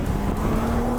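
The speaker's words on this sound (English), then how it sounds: "just such a creamy engine overall." A six-cylinder sports sedan engine accelerates smoothly, a loud steady drone with a rising tone, close and without talk.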